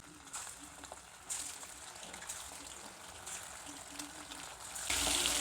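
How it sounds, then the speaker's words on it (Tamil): Anchovies fry in hot oil for a Tamil fish curry, producing a soft, steady crackling sizzle with a few louder bursts as pieces go in, fairly quiet and close, swelling at the end. "எண்ணெய் காஞ்சிடுச்சு. இப்போ அதில் அப்படியே ஒரு மீனாக நம்ம போட்டு எடுத்துடலாம்"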